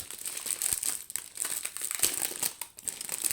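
A small plastic packet from a diamond painting kit is handled and opened up close, with steady crinkling and crackling of thin plastic throughout and no talking.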